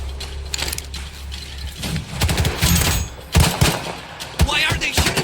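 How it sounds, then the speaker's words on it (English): Scattered gunfire and mechanical clatter during a firefight in the video game S.T.A.L.K.E.R. 2: Heart of Chornobyl, with loud bursts and clanks in uneven clusters over background game noise. "Why are they shooting at us?"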